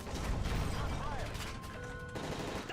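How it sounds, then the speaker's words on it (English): Dense bursts of gunfire crackle through the cabin during a plane hijacking in Call of Duty Modern Warfare 3, rapid overlapping shots and mechanical clatter with shouting voices mixed in. "That's gunfire!"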